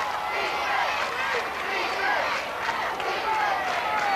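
A crowd at a 1997 high school homecoming football game between Morgantown and North Marion makes a continuous roar of cheering and babble, broad and fairly loud, with a voice talking over it.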